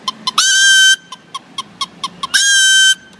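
A man uses a whistle to imitate a hen, with two long sustained clucking-cackle bursts separated by a run of short, evenly spaced clucks, loud and close with no talking.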